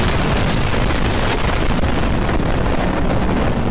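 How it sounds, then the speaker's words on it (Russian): A thrown bomb explodes close by in Garry's Mod. It makes a loud, saturated roar of rumbling blast noise that fills the whole stretch without letup. "Ну, хоть посмотрим вблизи взрыв."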